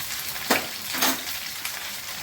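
Half a spoon of ginger goes into hot oil for a potato and pointed gourd curry, giving a steady frying sizzle with two sharper hissing bursts as it hits the pan.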